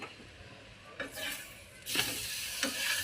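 Spinach paratha roasting on a hot griddle, a soft steady sizzle with a few brief scraping strokes as it is turned and pressed, close and fairly quiet with no talking.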